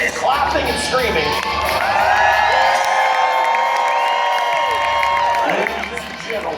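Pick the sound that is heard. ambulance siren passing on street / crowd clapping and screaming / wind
crowd clapping and screaming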